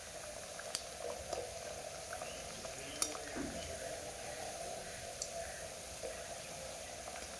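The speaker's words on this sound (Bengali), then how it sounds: "আমি এখানে আলুগুলো হাই ফ্লেমে উল্টে পাল্টে ভেজে নিচ্ছিলাম।" Potatoes fry in hot oil over high flame with a steady close sizzle and hiss, with occasional clicks and scrapes of a utensil turning them.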